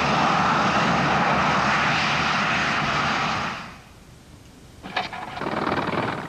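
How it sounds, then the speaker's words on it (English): A microlight aircraft, little more than a pair of wings with a high-mounted motorcycle engine driving a propeller, drones loudly and steadily nearby, then the buzz drops away suddenly, leaving a quieter pause before a brief clatter and renewed rumble. "This is a microlight aircraft. It's little more than a pair of wings with a high-mounted motorcycle engine driving a propeller."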